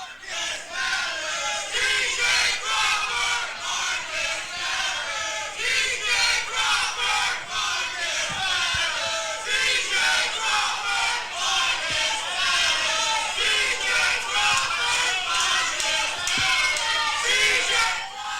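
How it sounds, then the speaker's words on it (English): Wrestling crowd in an arena chanting rhythmic call-and-response cheers, loud repeated pulses of massed voices that continue steadily for the whole stretch. "Half the crowd chanting, "Let's go TJ." Half the crowd chanting, "Let's go Marcus.""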